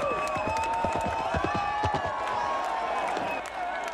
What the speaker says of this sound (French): À chaque tentative, la foule encourage les cavaliers.